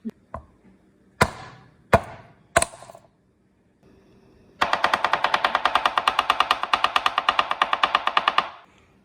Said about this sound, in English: Get 6 cloves of garlic or however many frozen garlic pods that equates to and chop them finely.